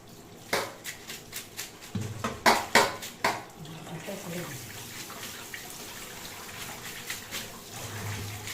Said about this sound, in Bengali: এই মাছগুলো সব কাটা হয়ে গেছে, আর এখন এর আঁশগুলো ফেলানোর জন্য আমি এটা দিয়ে করবো।